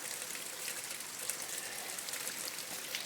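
Water runs from a roof gutter down to a spot in a drainage trench, a faint, steady trickling hiss with no voices.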